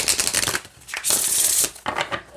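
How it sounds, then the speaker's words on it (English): A Mausolea Oracle of Souls card deck is shuffled by hand, with crisp riffling bursts, a brief pause, then a longer continuous cascade of cards close to the listener. "let's see how it shuffles"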